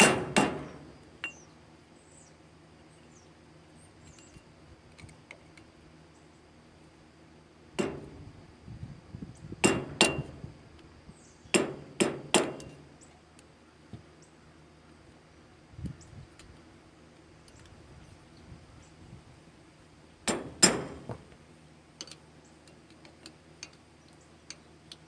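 A hammer knocks on a trailer axle wheel bearing hub to work it loose, landing sharp metallic blows in small clusters with quiet pauses between them. No voices are heard.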